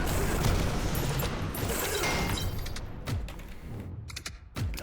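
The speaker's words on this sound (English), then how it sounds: "Now I have a machine gun." Rapid, dense machine gun fire from the video game Synthetik 2 crackles continuously at first, then gives way to scattered sharp shots and mechanical clatter as the burst ends.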